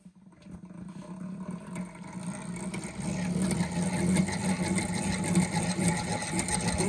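A honey extractor machine spinning four honeycomb frames, starting up and building to a loud, steady mechanical whir that holds to the end.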